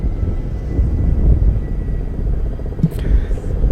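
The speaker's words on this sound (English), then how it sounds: "Three Kamov 31 helicopters." Three Kamov 31 airborne early warning helicopters of the Indian Navy fly past at the International Fleet Review in Visakhapatnam, a low continuous rotor rumble with crowd and announcer voices mixed over it.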